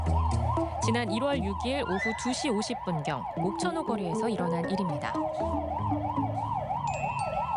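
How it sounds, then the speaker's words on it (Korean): A 119 ambulance stuck in traffic at a roundabout sounds its siren, a loud, continuous wailing that rises and falls steadily throughout, with a narrator talking over it and traffic rumbling underneath. "밖에서 앰뷸런스 소리가 한참 나길래"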